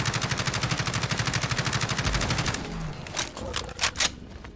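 Rapid automatic fire from a Kilo 141 rifle in Fallout 4 rattles in a loud, fast burst for about two and a half seconds, followed by a few sharp separate reports and impacts.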